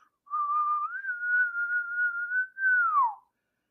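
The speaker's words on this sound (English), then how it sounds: "I was just waiting to hear someone whistle" A single person whistles one sustained, wavering tone that rises slightly, breaks briefly, then slides downward at the end, clear and alone against silence.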